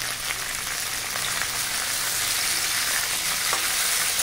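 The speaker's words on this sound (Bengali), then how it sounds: "আমগুলো খুব ভালো করে একটু ভেজে নেব। আমের উপরে দিয়ে দিচ্ছি লবণ, দিয়ে দিচ্ছি হলুদ।" Raw mango pieces fry with salt and turmeric in a pan, giving a loud, dense, continuous sizzle close up, with no voices.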